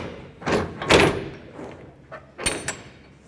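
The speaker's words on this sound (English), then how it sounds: "So when you have doors on the sides, you'll have to open those up also, just like we're going to do here." A refrigerated trailer's side door is opened during an inbound inspection: loud metallic clunks and scraping of the latch and door, then two sharp bangs near the end, close by, without talk.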